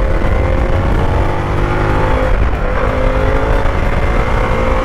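Harley-Davidson Pan America motorcycle engine braking through tight curves in sport mode with maximum engine braking, a steady loud droning engine tone held throughout, close and continuous with no talk.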